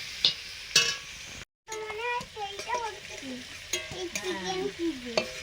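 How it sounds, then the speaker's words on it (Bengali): Mixed vegetables with capsicum stir-fry on high flame, sharp clattering utensil strikes over a hissing sizzle, with a brief dropout and faint voice-like tones in the background. "এখন ক্যাপসিকাম দিয়ে দিলাম, আর সবজিগুলো একদম হাই ফ্লেমেই ভাজছি"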